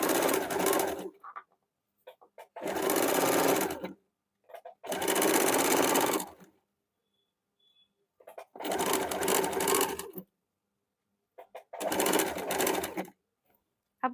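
A sewing machine stitches a gents short kurta in five close, steady bursts, each lasting about one to two seconds, with quiet pauses between runs and no talking.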